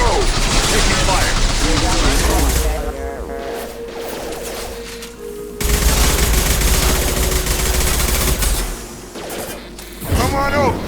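Gunfire in the video game Mass Effect 2, heavy sustained volleys of shots that briefly thin out, then resume loudly and stay dense, with a short voice over the fighting.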